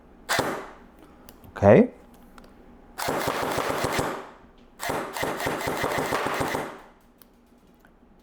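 An ARP9 airsoft AEG fires in two sustained full-auto bursts of rapid mechanical clicks, preceded by a couple of single shots, with a brief spoken word between them.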